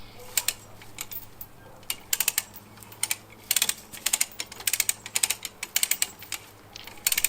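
A 2-ton Maasdam Pow'r-pull come-along hand winch is cranked against a strap anchored to a cherry tree, giving close, sharp ratcheting clicks in uneven bursts with short pauses between strokes.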